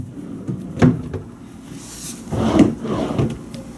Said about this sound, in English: Got some drawers that all slide really nice and well.